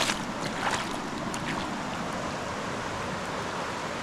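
A flooded, swollen river in the hamlet of Bukovac rushes past as a steady broadband wash of moving water, moderately loud and continuous with no talking.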